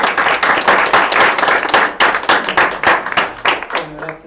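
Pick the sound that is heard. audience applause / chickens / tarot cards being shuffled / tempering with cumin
audience applause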